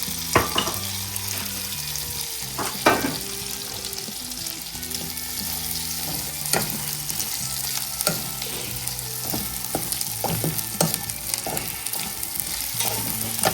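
Prawns frying in ginger garlic paste in a pan: a continuous close sizzle broken by repeated clacks of a spoon stirring against the vessel, steady and fairly loud without speech.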